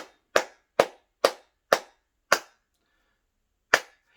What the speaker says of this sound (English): that is not sarcastic clapping